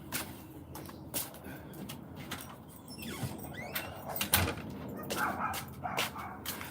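A dog barking indoors in a house, several scattered sharp barks at moderate distance amid household sounds such as a sliding door, with no talking.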